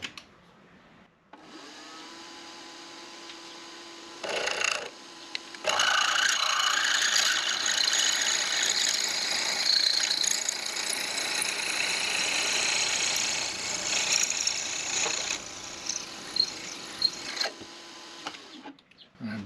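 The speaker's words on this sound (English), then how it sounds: "a 25/64 drill bit. And we'll just ream this out a little bit bigger" A milling machine reams a hole to size with a 25/64 drill bit in metal, a steady loud whirring and grinding that starts and stops a few times, running close and alone without talk.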